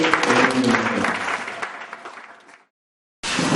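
A church congregation applauds in a dense wash of clapping that slowly fades out, drops to silence for a moment, then bursts back in at full strength.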